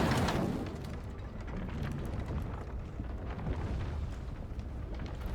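An explosion in the video game Mount & Blade 2: Bannerlord, a loud burst at the start that settles into a long, rumbling roar of debris and crackle lasting several seconds, with no talk.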